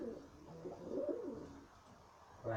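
A tame blue-pied pigeon coos softly nearby in a few rolling, throaty phrases, with a short pause before one more coo at the end.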